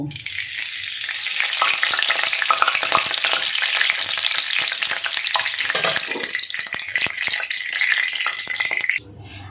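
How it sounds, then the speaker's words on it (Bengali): Loud, continuous crackling sizzle of onions frying in hot oil with ghee, dense and close up, stopping abruptly near the end. "আমি প্রথমে এই পেঁয়াজটা ভেজে নেব"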